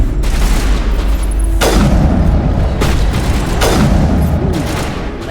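Gunfire in Mass Effect 1 Legendary Edition, a shot striking an enemy's leg: loud, booming reports over dense game noise, with two or three sharp blasts at intervals.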